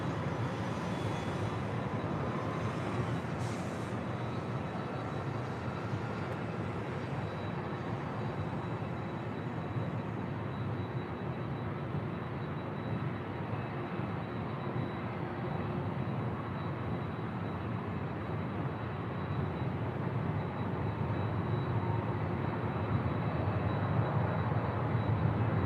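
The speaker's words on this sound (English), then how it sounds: "the Hawaiian A321neo now rolling down at 24 left" A Hawaiian Airlines Airbus A321neo rolls down runway 24 Left at LAX, producing a continuous, even jet roar that holds steady and grows slightly louder toward the end, with no talking.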